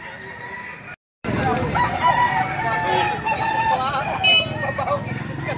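Roosters crow loudly and chickens cluck at a poultry market in Padre Garcia, Batangas, with repeated crows overlapping amid crowd babble and someone talking, after a brief silent break near the start.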